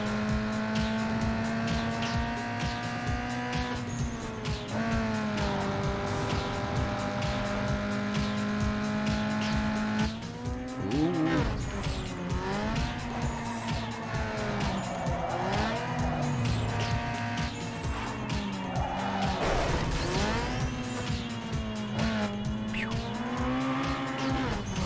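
A car brakes through a turn, its tires squealing and wavering in pitch over a steady engine drone, with a skidding rush of noise midway and further tire squeals and engine revving continuing to the end.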